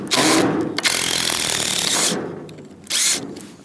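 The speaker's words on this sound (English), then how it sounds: "brought a cordless drill, because we've got to take these battens off the door" A cordless drill whirs loudly in close bursts, the motor revving and grinding as it removes wooden battens from a barn door, pausing briefly before a final short spin.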